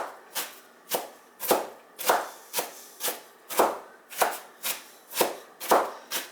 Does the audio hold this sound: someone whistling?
no